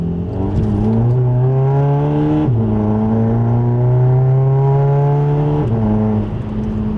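Bagged, tuned Volkswagen with a euro-spec turbo accelerating hard on a highway, heard from inside as a loud engine tone rising steadily through the gears, with two quick drops at the shifts.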